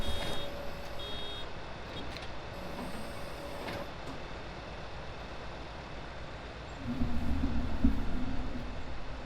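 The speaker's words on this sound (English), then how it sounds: "so we've got the buzzer going there already. That's bale number 1." In Farming Simulator 19, a baler-full buzzer sounds as a steady electronic tone over the continuous rumble of farm machinery, which grows louder near the end.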